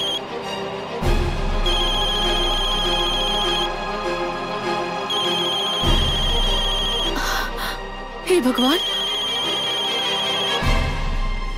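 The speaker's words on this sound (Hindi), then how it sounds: "अरे कहाँ हो गए फोन का नहीं उठाओ तू?" A mobile phone ringtone repeats in three long bursts of electronic tones over steady background music, and a person speaks briefly between the rings.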